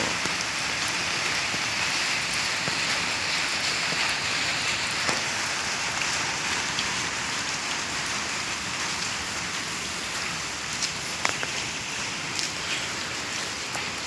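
Steady rain from Cyclone Ditwah pattering on surfaces, a dense continuous hiss with occasional louder drips, no voices.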